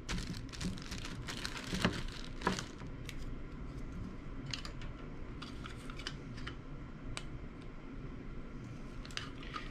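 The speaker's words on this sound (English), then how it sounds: "I'm going to take this and my label and tape it on there." Adhesive tape is pulled and pressed onto a label on a plastic bag, making quiet crinkles, taps and short tearing sounds that cluster near the start and then continue as faint rustling close by.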